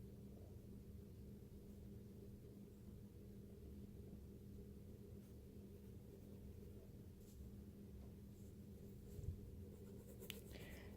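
Soft pencil strokes on paper during a proportion drawing, faint and close, with light scratchy lines over a constant low hum in a quiet room.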